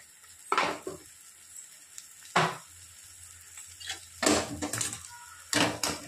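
Goat head curry with chili is stirred in a frying pan. Several separate bursts of scraping and clattering from the utensil sound against the pan over a faint, steady sizzle.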